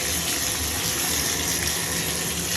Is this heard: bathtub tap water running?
yes